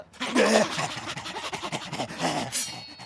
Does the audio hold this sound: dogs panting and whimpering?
yes